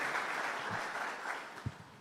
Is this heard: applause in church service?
yes